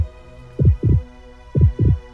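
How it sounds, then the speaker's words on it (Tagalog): Pounding heartbeat sound effect: two pairs of deep, thumping lub-dub beats, loud and close against a low steady hum, with no voices. "Palakas ng palakas ang kabog ng kanyang dibdib."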